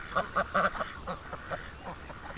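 Muscovy ducks being herded into a pen give a rapid string of short, nasal honking calls at close range, fading to softer calls toward the end.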